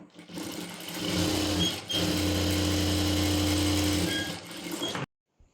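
A sewing machine runs close up, stitching pant fabric in steady continuous bursts with a brief pause near the start, then a long unbroken run before it stops.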